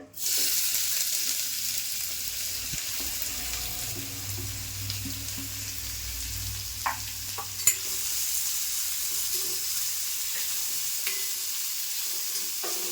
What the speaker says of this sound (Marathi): कांदा असा मऊ होईपर्यंत परतून घेणार आहे